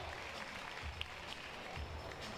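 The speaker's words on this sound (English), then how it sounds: "She's getting quite a lot of support from the local crowd." A local crowd claps for a climber at the 2019 women's combined bouldering qualifier in Toulouse, France: soft, steady, distant applause that holds for a couple of seconds.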